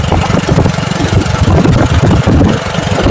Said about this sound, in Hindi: ये जो बाइक चला रहे हैं गंगाधर पटेल जी